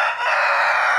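A rooster crows loudly and close by in a backyard chicken run, one sustained cock-a-doodle-doo lasting about a second, with no talking.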